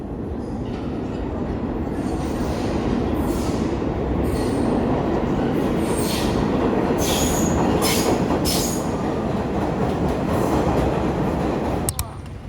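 A New York subway train rumbles loudly and steadily along the tracks, wheels squealing in high bursts and clattering over rail joints, filling the whole stretch with little else audible.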